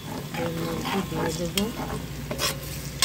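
Onion pieces sizzle and fry steadily in a pan for prawn biryani, a close, continuous crackle with a short stir partway through, while someone talks over it.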